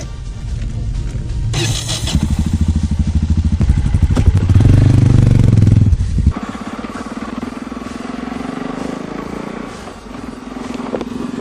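A motorcycle rides through the streets of Berlin, its engine rumbling up to a loud, rising rev before dropping to a steady idle-like drone with some clatter, close and continuous.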